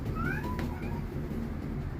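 A short-haired cat meows while being groomed and bathed, two or three brief close cries over a low, steady background hum, with no voices.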